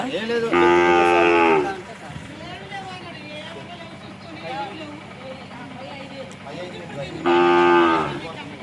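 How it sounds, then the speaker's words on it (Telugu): A calf lets out two loud, drawn-out moos, one at the start and one near the end, with people talking in between. "ఇదిగోండి ఫ్రెండ్స్, ఇదైతే ఇంకో దూడ."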